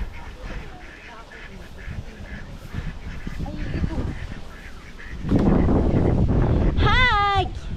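Ducks quack near a rice field, a loud series of close calls at the end, heard through strong wind buffeting the microphone and a person speaking.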